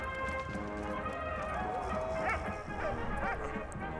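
A dog barks and yips in the World War I video game Valiant Hearts: The Great War, a few barks over dense game music and effects.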